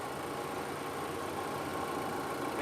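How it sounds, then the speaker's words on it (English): A 2021 Volvo XC90 Recharge T8 Inscription with a 2.0-liter engine idles, recorded up close as a steady, smooth, even hum with no talking. "Just to hear it idling."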